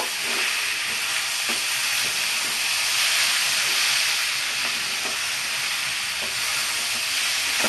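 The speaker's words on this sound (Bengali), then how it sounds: "আবারও আমি একটু নাড়াচাড়া করব।" Raw jackfruit curry for a Bengali prawn dish fries loudly in a pan, a dense continuous hiss with faint intermittent stirring clinks underneath; no talk.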